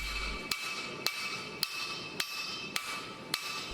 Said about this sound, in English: A third hammer swap now, over to a rubber-handled ballpeen hammer.